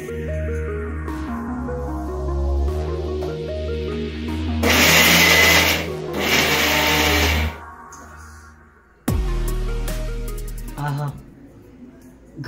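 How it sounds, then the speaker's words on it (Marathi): A kitchen mixer grinder whirs loudly in two short bursts, blending ragi flour and dry fruits, with someone talking before and between the runs. "मग आता हे आपण मिक्सरला फिरून घेऊ."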